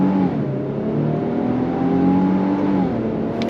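A 2025 Infiniti QX80 full-size luxury SUV with four-wheel drive and a 9-speed automatic pulls away on throttle, its engine drone steady and close, pitch easing slightly through a shift before climbing again, with no talking.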